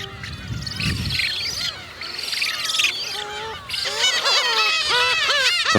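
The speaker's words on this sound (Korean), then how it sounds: "새끼 저새들의 먹이 경쟁이 소란스럽습니다" Black-faced spoonbill chicks on a small island colony in early summer, calling noisily while competing for food: a dense, overlapping chorus of nasal honks, squeals and chirps, loud and close, with rapid bursts toward the end.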